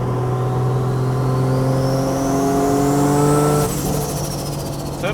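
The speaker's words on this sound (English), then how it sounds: "Turbo's sounding good." Turbocharged 1JZ engine in a Toyota Chaser JZX100, in unhealthy condition, revving steadily with rising harmonic tones and a turbo whistle climbing over about three seconds before easing off, loud and close with no talk.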